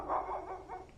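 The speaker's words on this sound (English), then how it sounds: "that dog just won't stop barking" A dog somewhere around an engine stand in a workshop gives a couple of soft, muffled barks and whimpery yips at moderate distance, with no one talking.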